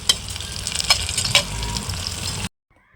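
Mustard seeds, cumin, onions and curry leaves sizzle loudly in hot oil while a spoon stirs them, with sharp crackles and scraping strokes across the pan before the sound cuts off abruptly near the end.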